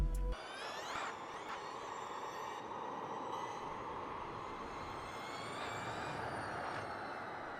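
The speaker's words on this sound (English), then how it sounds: "listen to this thing roar down the front straightaway as I pick up the speed" An electric NASCAR race car accelerates down the front straightaway of a track, giving a faint, steady electric whine that climbs in pitch as speed builds, with no talking.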